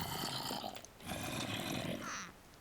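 Zombies in a video game give off low, rough, overlapping groans and growls, a faint continuous snarling texture with a slight rise near the end.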